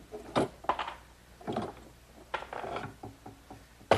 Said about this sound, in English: I can unclamp it.